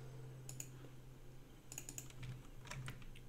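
Computer keyboard keys pressed while editing in Inkscape, a few quick, light clicks in two short bursts over a steady low hum, fairly close and fairly quiet.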